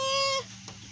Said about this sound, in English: I really should not have to pet the brand new baby chickens